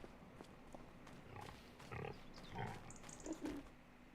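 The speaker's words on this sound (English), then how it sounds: "Our little piggies. I love these guys so much." Pigs in Farming Simulator 25 give soft grunts and oinks, several short scattered calls over a quiet farm background.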